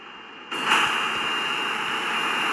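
A Boeing 747 in the SimplePlanes game spools up for takeoff, a loud jet roar bursting in after half a second with a high steady whine and broad rushing noise sustained to the end.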